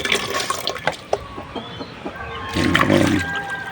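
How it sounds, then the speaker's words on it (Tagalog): Water splashes and trickles while a chicken water container is rinsed out, irregular sloshing and a steadier pour toward the end, with chickens faintly audible nearby. "Nililinisan ni Abib yung isang tubigan"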